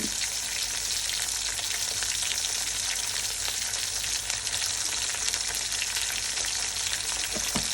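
Cumin seeds sizzling and crackling in hot oil for a fish curry, a steady dense frying hiss close by with small pops, no talking.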